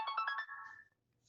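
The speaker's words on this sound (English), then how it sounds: "That was my phone alarm." A phone alarm ringing in a short burst of four quick bright electronic pulses, then a held tone that fades out, fairly close and alone with no talking.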